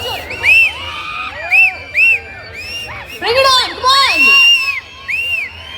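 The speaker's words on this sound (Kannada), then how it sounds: "ಇದೇ ತರ ಚಪ್ಪಾಳೆ ಬರ್ತಾ ಇರ್ಲಿ ಸೌಂಡ್ ಬರ್ತಾ ಇರ್ಲಿ ವಿಸಿಲ್ ಬರ್ತಾ ಇರ್ಲಿ" Crowd at a shopping mall opening in Davanagere shouting and whooping in loud bursts, with high rising yells and cheers in waves over general crowd noise.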